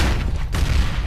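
A grenade explodes in a video game match, a single loud, close boom with a rumbling low-end tail lasting about a second.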